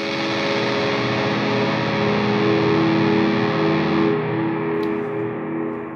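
Guitar pedalboard delays and reverb pushed into distortion make a dense, sustained wash of layered, saturated tones that stays loud and steady, then loses its top end and thins slightly near the end.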